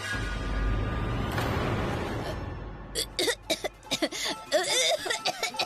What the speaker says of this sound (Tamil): ஐயோ என்னமா இப்படி இருமல் வருது?